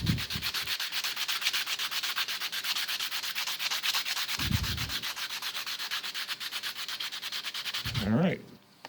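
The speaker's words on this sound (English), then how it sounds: "Want to flat sand the thumb so it'll stick." Sandpaper scrubbed by hand across the fiberglass thumb of a devil horns plaque, a loud, steady run of rapid rhythmic strokes that continues almost without break, with only brief pauses.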